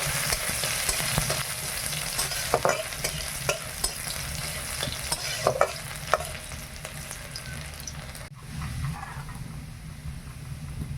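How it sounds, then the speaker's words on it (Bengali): Onion and five-spice seeds frying in hot oil, a steady close sizzle broken by scattered pops and scraping stirs, with a brief dip near the end and no speech. "তেলে একটু পাঁচ ফোড়ন দিয়ে দিলাম একটু পেঁয়াজ দিলাম"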